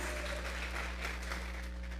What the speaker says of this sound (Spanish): Regálele ofrenda de palmas al Dios de la gloria.